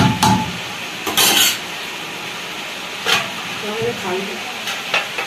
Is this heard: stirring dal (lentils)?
yes